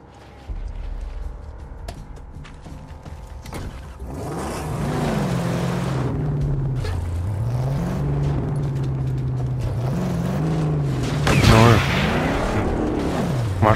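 A car engine roars and revs in the Mad Max video game, the pitch climbing and dipping as it drives over wasteland, with booms and gunfire-like crashes, and someone talks over it.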